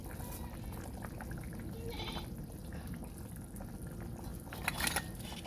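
A pot of fish curry broth with potatoes and eggplant bubbles at a steady low boil, with a faint higher squeak or whistle near the end.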